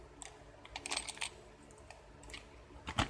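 Authentic Smith & Wesson handcuff keys, packed with M100 handcuffs, handled close up: scattered light metallic clicks and clinks, clustered near the start and with a sharper tap at the end.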